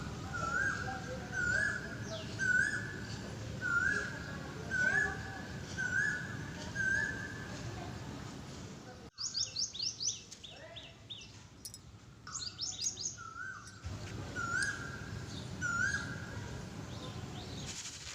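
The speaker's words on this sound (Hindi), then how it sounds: "आप लोगों को भी सुनाऊंगी मैं कोयल की आवाज़" An Asian koel calls repeatedly in a steady, rising whistled phrase over a soft outdoor morning background, with other birds chirping and twittering around it at moderate distance.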